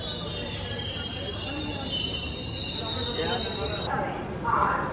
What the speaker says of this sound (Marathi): आता गाडी ऑन टाइम पोचली